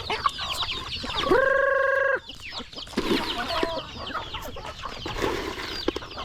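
Broiler chickens kept in a backyard clearance area with other farm animals, clucking and calling close by, with one sustained harmonic crow-like call standing out early amid steady chatter of the flock.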